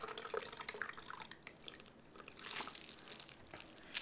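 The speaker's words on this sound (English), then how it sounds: "I'm gonna take a little bit of this water out. Just let it drain." Water dripping and trickling from wet felt on a Christmas stocking being wet-felted over a resist as it drains into a bucket, a soft, irregular run of close drips and splashes with no talk.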